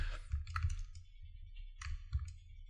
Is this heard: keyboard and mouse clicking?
yes